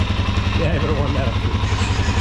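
A 2022 Suzuki DRZ 400SM motorcycle engine warms up nearby with a loud steady low idle thrum, while a voice talks briefly over it.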